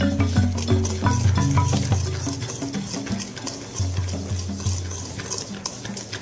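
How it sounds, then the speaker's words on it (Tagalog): Butter is mashed together with sugar in a bowl, a steady close scraping and stirring with soft rhythmic knocks of the utensil against the bowl running throughout. "put the butter and then mix it with the sugar, mash."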